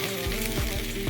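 Pre-cooked chicken salad ingredients sauté in a hot pan, giving a steady close sizzle with faint stirring scrapes throughout and no talking.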